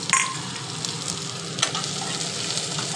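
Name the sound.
frying chopped onion with green chilies for aloo dum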